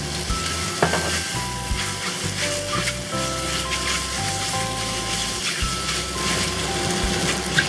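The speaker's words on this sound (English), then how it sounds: "We're just going to let the pan sear on one side for a little bit." Wide rice noodles for beef chow fun sear in a hot pan with sesame oil, giving a loud, steady sizzle and crackle with a few scraping stir sounds, no talking.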